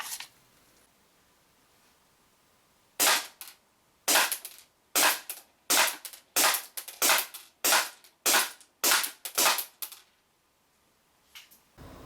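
Armorer Works Deadpool 1911 gas pistol fires a string of about ten crisp, sharp shots in fairly even rhythm, loud and close, followed by two fainter pops after a pause, with no talking.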